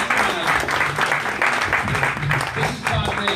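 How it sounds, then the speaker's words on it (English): A talk-show studio audience claps steadily in a dense, sustained round of applause after a guest tribute, continuous and fairly loud throughout. "Let's give Jim a great round of applause."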